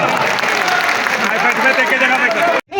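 A large crowd at a Jarasandh festival gathering in Jharkhand claps steadily in dense, continuous applause, close and loud, cutting off abruptly near the end.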